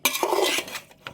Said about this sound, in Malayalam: നന്നായിട്ടൊന്ന് യോജിപ്പിച്ച് കൊടുക്കുക